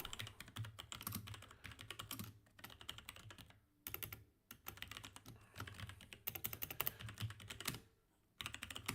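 Typing on a computer keyboard while programming, a dense, steady stream of close, quiet key clicks in bursts with brief pauses, no talk.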